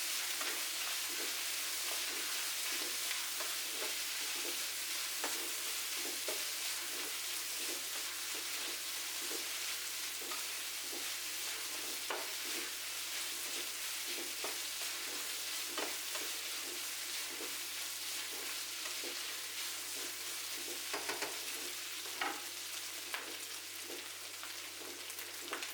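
Ham frying in butter in a pan, a steady close sizzle running throughout with occasional soft stirring clicks and spatters, no voices over it.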